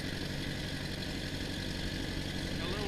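Massey Ferguson 50 tractor engine pulling along a driveway in third gear, a steady low rumbling drone with even pulsing that stays constant throughout and is heard without talk.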